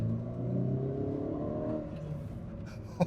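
A Mercedes-Benz SLK roadster engine hums and revs steadily at close range, its pitch sliding and then easing off, followed by a brief sharp click at the end.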